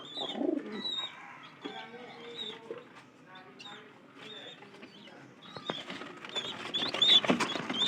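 Pigeons and their chicks coo softly nearby, with low throaty calls, light pecking and rustling, and a few faint voices in the background.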